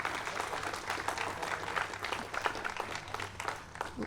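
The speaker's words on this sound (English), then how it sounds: "let's give them a great round of applause" Steady applause from a crowd at a ribbon-cutting ceremony, dense and continuous clapping that holds at an even level throughout.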